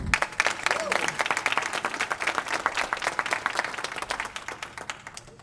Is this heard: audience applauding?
yes